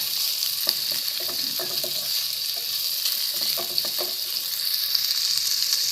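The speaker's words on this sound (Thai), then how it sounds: "เราก็จะผัดหมู ให้พอ ให้พอสุกนะคะ" Minced pork stir-fried in a pan for a Thai pork omelette, with a loud, continuous sizzle close by and repeated clattering strokes of the spatula against the pan.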